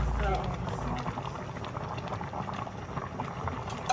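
Sinigang broth with katmon bubbling in a pot, a soft continuous simmering hiss and gurgle heard close, with a low background murmur and no clear speech.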